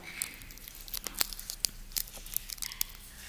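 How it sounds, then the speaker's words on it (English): A layer being peeled off, a run of sharp crackling tears and crinkles in quick irregular bursts, close and fairly loud with no voices. "We can peel the second layer now."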